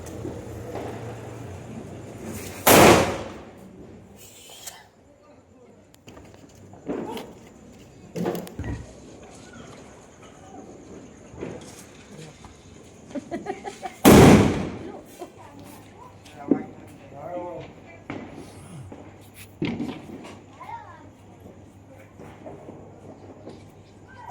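Firecrackers set off on a road during New Year celebrations: two loud, sharp bangs some ten seconds apart, with smaller cracks and background bustle in between and people talking nearby.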